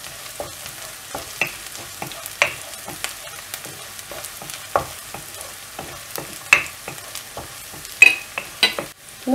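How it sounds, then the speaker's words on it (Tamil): Onion and crushed garlic sauté in a pan while a spatula stirs them, giving a quiet bed of frying hiss broken by repeated short scrapes and taps against the pan, close and with no voices. "இடித்து வச்சுருக்க பூண்டு ஆட் பண்ணிடலாம், இது நல்லா வதக்கி விடணும்."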